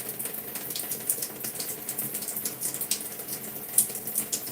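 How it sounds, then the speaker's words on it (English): Water splashes and trickles onto hair during a wash-and-go wash, a steady faint gush with small spattering bursts, no talking. "I'm just going to add a little bit more water to the section"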